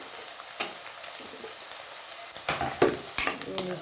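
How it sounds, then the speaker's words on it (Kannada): Green chillies fry in oil in a pan, a close crackling sizzle with stirring scrapes that grows louder and busier toward the end. "ಸ್ವಲ್ಪ ಬ್ರೌನ್ ಕಲರ್ ಬರೋತಂಕ ಫ್ರೈ ಮಾಡೋಣ"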